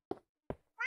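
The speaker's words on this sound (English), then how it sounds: "So that's my cats." Two short knocks or taps followed by a cat's meow close by, quiet in a still room, the meow rising sharply at the end.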